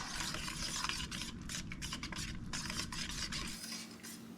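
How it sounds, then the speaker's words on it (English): A wire whisk stirs chocolate pie mixture in a pot with rapid, rhythmic scraping and swishing strokes, close and fairly quiet, which slow and fade near the end. "We only want to use this wire whisk in our pot for long enough to get all the chunks out."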